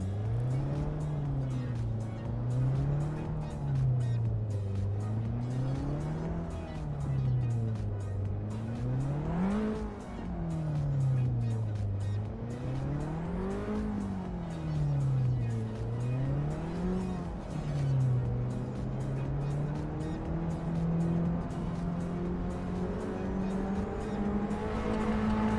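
Race car engine at full power, a loud continuous roar that rises and falls in repeated waves of revving and shifting, close and unbroken for the whole stretch with no voices.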